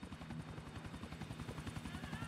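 Helicopter in Grand Theft Auto IV, a loud, steady rotor chop with rapid even blade thumps and a continuous engine drone, close and unbroken throughout.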